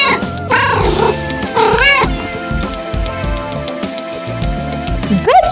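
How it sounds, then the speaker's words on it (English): A cat meowing loudly and close, several drawn-out, rising meows and cries in quick succession, heard alone without talk. "Oh, it's a cat."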